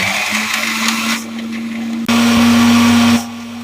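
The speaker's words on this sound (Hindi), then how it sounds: "अब हम इसको अच्छी तरह से ब्लेंड कर लेंगे।" A kitchen blender whirs loudly, blending a chocolate cake shake with cold milk and ice cubes, the motor steady, dropping briefly, then surging higher before cutting off.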